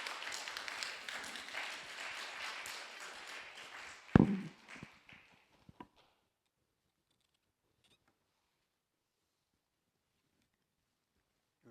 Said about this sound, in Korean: 우리 목사님 박수 한번 합니다.